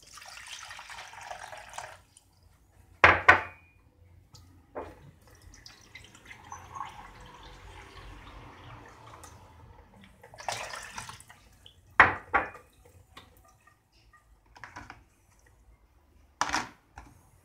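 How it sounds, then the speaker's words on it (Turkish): Water poured into the reservoir of a Kenwood CM200 filter coffee maker, in short splashing bursts and trickles separated by quiet pauses, heard close up. "Kahveyi yapmadan önce cihazın haznesine suyu koyuyoruz."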